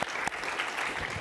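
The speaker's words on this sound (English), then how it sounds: "Give ourselves a round of applause." Conference audience giving themselves a round of applause at the close of a clinical trials event, a steady moderate patter of clapping filling the short stretch with no talk over it.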